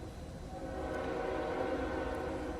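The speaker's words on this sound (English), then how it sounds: "there's a train behind me" A train passes nearby with a steady rumbling roar and a sustained tonal whine or horn-like drone that grows slightly louder, with no voices.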